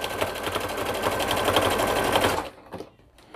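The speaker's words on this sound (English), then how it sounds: "I'm just doing a straight stitch all the way across" A sewing machine runs a straight stitch across a hooded towel in a rapid, steady mechanical whir for about two and a half seconds, then stops, leaving a few faint clicks.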